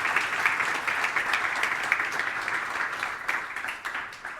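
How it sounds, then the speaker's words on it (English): A conference audience applauds for a brewing company's business intelligence manager, with dense, steady clapping that holds fairly loud throughout and thins slightly toward the end. "So just give him a round of applause first."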